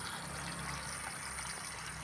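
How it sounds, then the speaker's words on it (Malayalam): Water from a fish pond drains steadily through a side hose onto open ground, a soft continuous trickling wash that stays even and fairly quiet throughout. "സൈഡ് ഓസിനകത്തൂടെ വെള്ളം ഇങ്ങനെ പറമ്പിലോട്ട് മാറ്റി വിടുക"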